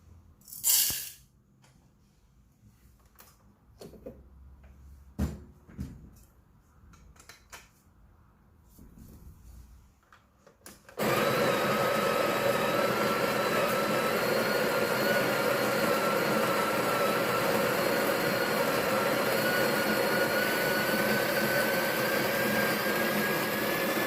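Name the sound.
coffee grinder grinding 18 grams of espresso beans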